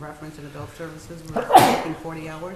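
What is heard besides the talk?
sneeze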